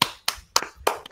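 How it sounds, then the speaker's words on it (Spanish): Five slow, evenly spaced hand claps, crisp and close, with nothing else heard between them. "Dale, Juan, no es muy difícil aplaudir."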